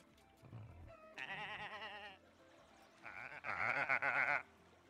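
Two bursts of sheep bleating in the video game Summer in Mara, the second louder and longer, with quieter background sounds between them.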